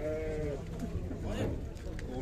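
Sheep bleating among the crowd at a livestock market where ewes with lambs are traded, a couple of clear bleats early on under steady background chatter and haggling voices.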